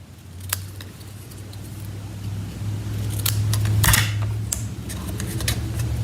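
Scissors snip at an angle through paper pieces for a card project, a few crisp cuts over a steady low background hum, close and moderately loud.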